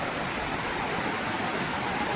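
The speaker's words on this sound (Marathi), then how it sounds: "मस्त पाण्याचा आवाज घ्या" Rushing water pours steadily at Garambi waterfall near Murud Janjira in Konkan, a dense, unbroken roar that holds at an even loudness throughout with no voices over it.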